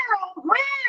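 A house cat lets out a loud, close meow that dips low then rises into a long drawn-out wail, all within about a second and with no voices over it.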